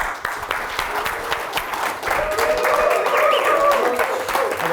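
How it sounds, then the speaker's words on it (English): A seminar audience applauds a property investment speaker, with loud, dense clapping from a crowd that swells and holds steady for several seconds. "Right, I enjoyed that clap."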